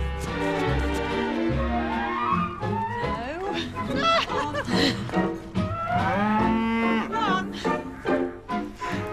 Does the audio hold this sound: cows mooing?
yes